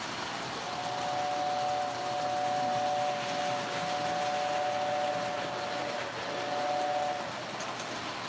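Model train running on a home layout, a steady continuous rumble and whir with a faint sustained whine holding across the run, no talking over it.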